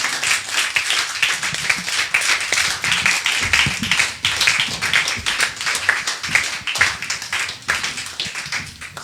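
A church congregation claps steadily and fast to acclaim the Lord, with dense, loud applause that never stops, and voices are faintly heard beneath it.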